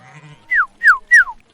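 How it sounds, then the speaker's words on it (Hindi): Goats grazing under the watch of guard dogs give three short, sharp bleats in quick succession, close and clear against a quiet background. "बकरियां उनकी पहरेदारी में चर रही थीं।"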